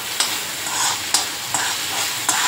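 Garlic, curry leaves and onion frying in hot oil, a loud close sizzle with several sharp spatula scrapes and stirs at uneven intervals, no voices.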